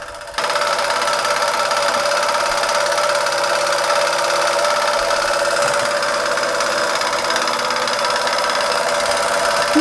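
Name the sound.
small German model steam engine running with modified Mammoth flywheel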